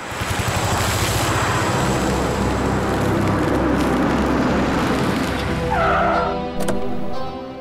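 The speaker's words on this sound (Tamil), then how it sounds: "வண்டியை தாபால நிறுத்திடு, அங்க போய் நம்ம ஏதாவது சாப்பிடலாம்" A car pulls over and stops at a roadside dhaba, its engine and tyre noise loud and steady throughout, with a brief squeal of tyres near the end as it comes to a halt.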